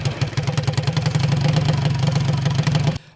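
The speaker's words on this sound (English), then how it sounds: "it's the sound of the engine that inspires her" Junior dragster engine idling and revving, a loud, close, steady pulsing rumble with a rapid firing rhythm that cuts off abruptly near the end.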